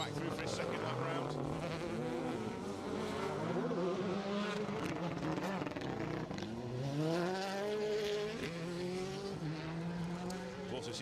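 A rally car on a circuit stage at the SMC Stages Rally roars past, its engine note rising and falling through gear changes over several seconds, with a commentator's voice running over it.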